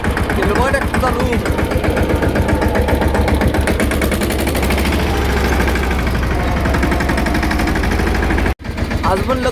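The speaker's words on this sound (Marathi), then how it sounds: "केलं बघा ट्रॅक्टर चालू." A tractor engine runs at a farm plot with a loud, close, steady chugging throb that barely changes. It drops out abruptly for a moment near the end, then picks up again.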